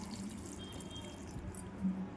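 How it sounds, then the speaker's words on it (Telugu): Water is poured into a pressure cooker pot holding beetroot, pepper and cinnamon for cooking, making a soft, quiet, steady trickle and splash over a couple of seconds. "ఇది కొన్ని వాటర్ వేసుకొని"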